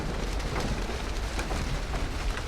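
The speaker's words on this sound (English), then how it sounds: "It sounds like hail" Hail from a storm rattling down in a dense, steady, hissing patter with scattered sharper impacts, loud and continuous throughout.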